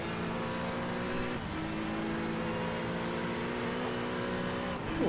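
Acura and Porsche sports race cars in a sim-racing championship roar past in a steady, loud engine drone with shifting revs, a brief dip and rising whine near the end.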